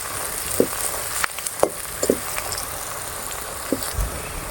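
Spices with turmeric and chili frying over a low flame for a karela dish, a steady soft sizzle with scattered small pops and crackles throughout.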